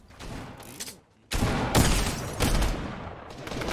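Video game gunfire, a rapid burst of loud shots that drops out briefly and then resumes as a dense, heavy volley, close and harsh.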